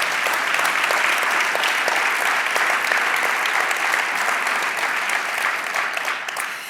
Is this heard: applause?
yes